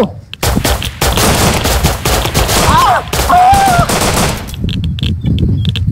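Rapid automatic gunfire in the survival video game Rust, dense bursts of shots for several seconds, loud and close, with a brief voice exclamation partway through before the firing tapers off.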